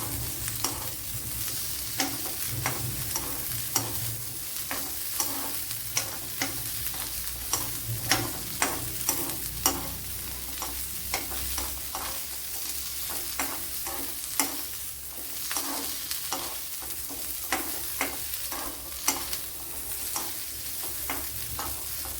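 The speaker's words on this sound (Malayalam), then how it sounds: "ഇവിടെ ഉള്ളി വഴണ്ട് വന്നിട്ടുണ്ട്." Onions sautéing in a pan with a teaspoon of coconut oil while fish perattu is being made, a steady low sizzle broken by frequent sharp scraping taps of a spoon stirring, close and continuous with no talk.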